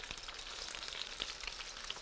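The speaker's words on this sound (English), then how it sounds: "it should sizzle like that" Food sizzling in a hot frying pan on a kitchen stove, a continuous crackling hiss with scattered sharp pops throughout, close and moderately quiet, with no talking.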